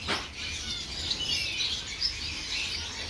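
Small birds chirp and tweet in quick, high twittering bursts, close by and continuous, with a low background hum underneath.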